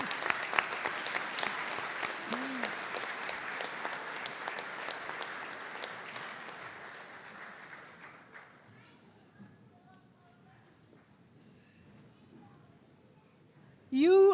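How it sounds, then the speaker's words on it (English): New graduates at a Donegal conferring ceremony clap for their families and supporters, a full crowd applause that gradually thins and fades to near silence, with a brief voice at the very end. "would you rise and face your supporters and give them a round of applause?"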